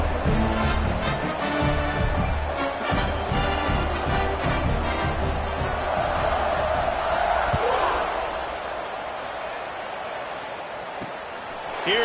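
Dense crowd roar fills a football stadium at kickoff in a USC versus Indiana game, a steady loud wash of voices that eases slightly toward the end, with commentary over it.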